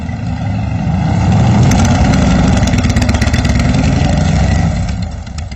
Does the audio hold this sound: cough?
no